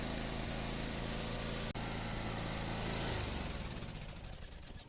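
A small lawn mower motor runs steadily and close, a constant buzzing drone that winds down and fades toward the end as the kill switch cuts it.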